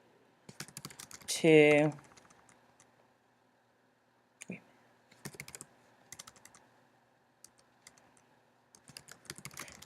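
Short bursts of computer keyboard typing, soft clicky keystrokes in scattered clusters, as a teacher types a message, with a brief voiced sound near the start.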